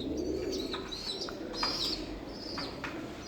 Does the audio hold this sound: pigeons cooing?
yes